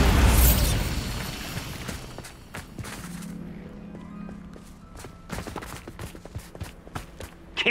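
A Bombarda blasting spell from the wizarding game Hogwarts Legacy bursts with a loud booming impact at the start, then a decaying rumble, followed by later scattered sharp pops and thuds.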